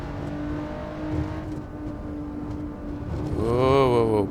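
A Honda NSX engine drones steadily in Assetto Corsa, then revs up and climbs in pitch near the end, with someone talking over it.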